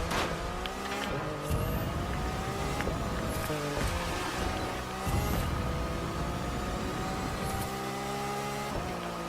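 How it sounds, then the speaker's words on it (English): A high-performance hypercar engine in The Crew 2 racing game, steady loud drone with repeated rising rev sweeps and gear shifts as the car drives at speed. "we still got a lot of good speed by having a different high-performance hypercar"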